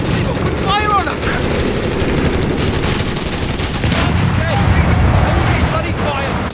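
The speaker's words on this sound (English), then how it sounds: "They've opened fire on us!" Gunfire and bursts of machine-gun fire from a Company of Heroes 3 battle, dense and continuous with wind-like rumble underneath, while voiced unit chatter and brief radio-style calls overlap the shooting.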